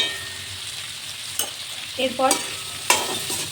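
Pointed gourd and potato pieces seasoned with turmeric and salt fry in an open pan with a steady soft sizzle, broken by a few close scraping stirs of a spatula, and a voice briefly speaks over it.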